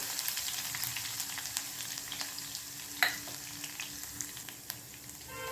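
Crushed garlic fries in hot oil in a pan for a soya chunks dish, a steady close sizzle dotted with small pops and one sharper crackle, with no talking.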